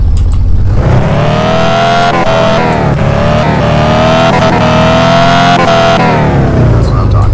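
A car's engine in Car For Sale Simulator 2023 starts and then revs steadily, loud and up close, with a droning engine tone that rises and falls over several seconds and talk mixed in.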